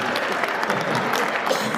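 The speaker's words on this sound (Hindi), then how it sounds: "जो समझेगा वो ताली बजाएगा।" A live audience at a Hindi comedy poetry show (hasya kavi sammelan) breaks into steady, dense clapping, a full crowd sound heard up close without talk on top.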